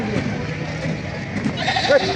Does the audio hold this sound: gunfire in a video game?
no